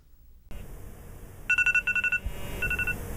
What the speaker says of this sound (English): Bailey, turn off your alarm.